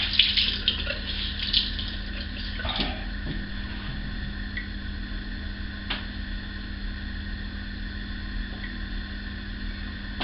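Hot water runs from a tap into a sink in a steady, moderate stream with a faint background hum and a few small clicks, no talking.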